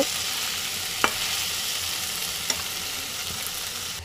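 Fish sizzling in hot oil in a pan, bele fish already fried and returned for more frying; a steady quiet crackle with a couple of sharp clinks from stirring, no voices.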